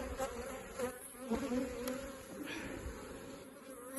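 A close swarm of honeybees buzzing steadily at an open hive, a fluctuating drone, individual insects rising and fading as they fly nearby.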